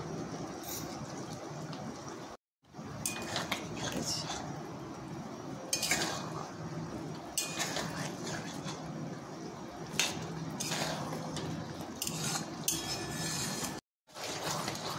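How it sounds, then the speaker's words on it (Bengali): Cornflour gravy for chilli chicken being stirred in a pan, with steady scraping and clinking of a utensil against the metal over a continuous low bubbling bed, broken by two brief silences. "একবার করে ভালো করে সব মিশিয়ে নাড়িয়ে চাড়িয়ে দিতে হবে"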